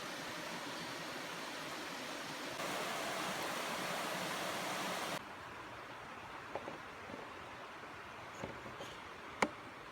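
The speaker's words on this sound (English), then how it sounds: "That's the waterfall." Waterfall on Howard's Creek, a steady broadband rush of falling water that holds constant and then drops to a quieter hiss, with a few faint clicks near the end.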